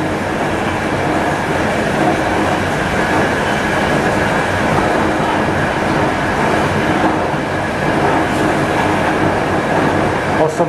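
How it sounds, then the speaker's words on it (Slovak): A train passes close by on a Slovak railway line near Cífer, a loud, steady rumble of wagons rolling over the rails for the whole stretch, with faint clickety-clack. "práve prechádza vlak"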